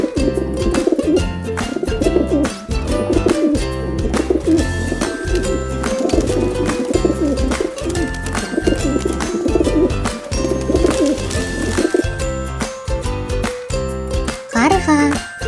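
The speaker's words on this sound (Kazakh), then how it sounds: "Көгершін." Wild pigeon cooing in repeated low, throaty phrases, loud and close, set over a steady rhythmic musical backing that continues throughout.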